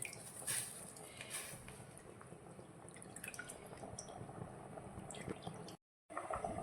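Rice and water boiling together in a pot on the stove, a close, steady bubbling and dripping patter that runs for several seconds and cuts out briefly near the end before resuming.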